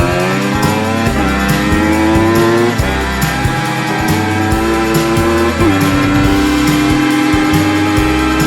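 Cartoon-style motorbike racing at high speed through a village, a loud continuous engine drone with stepped pitch rises like gear shifts, steady and unbroken.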